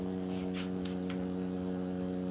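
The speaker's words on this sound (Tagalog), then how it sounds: "Ang tanging naririnig nyo na lang ay yung ugong ng kanyang motor." A steady electrical hum comes from the motor of a homemade free energy generator, constant and even throughout, with a few faint clicks over it.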